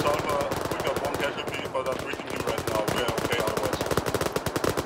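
Sustained machine gun fire in the Arma 3 video game: rapid, evenly spaced bursts of shots fill the whole stretch, loud and close, with a brief lull near the middle, and faint voices underneath.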